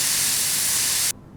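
Continuous hissing burst of DW400 cleaner sprayed onto a grimy differential in Offroad Mechanic Simulator, loud and close for about a second before cutting off abruptly into near silence.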